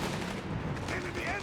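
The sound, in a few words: Sherman tank firing on Panzer in Company of Heroes 3 video game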